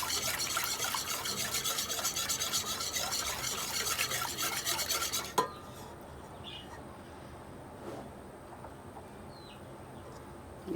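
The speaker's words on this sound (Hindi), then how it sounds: "दही को अच्छी तरह हमने इस तरह फेंट लिया था, और मज़ीद आप इस तरह फेंट लें" Yogurt whisked in a pot for kadhi pakora gives a fast, steady scraping stir for about five seconds, then stops abruptly, leaving a quiet room with faint incidental clinks.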